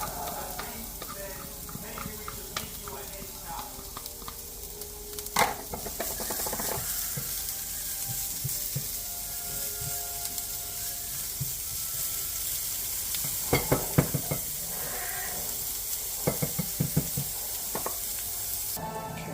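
Onions sizzling and frying in a hot pan, with a steady hiss throughout and occasional stirring scrapes and clinks, fairly close and moderately loud, no talking.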